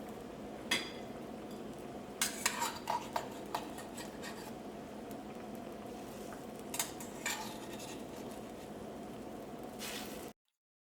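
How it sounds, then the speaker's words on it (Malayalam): Raw prawns go into a boiling Kerala chemmeen theeyal curry and get stirred, with a steady simmering hiss under scattered metal spoon clinks and taps against the pot, close and fairly quiet, with no talking. "ഇതിലേക്ക് നമുക്ക് ചെമ്മീൻ ചേർക്കാം."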